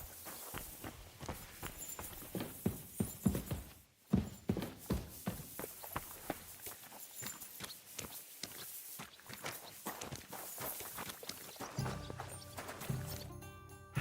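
A horse's hooves clip-clop in a steady walking rhythm, close and fairly loud, pausing briefly and then carrying on.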